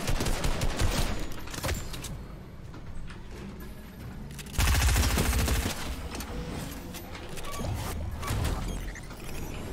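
Alien gunfire aimed at the player in a UFO-fighting video game: bursts of rapid shots with a heavy impact near the middle, loud and busy over a steady game background, with no talk.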